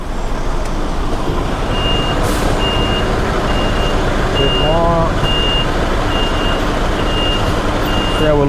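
A reversing lorry sounds its backup alarm, an evenly spaced series of loud, close beeps repeating over a constant diesel engine rumble, with a brief squeal of brakes in the middle.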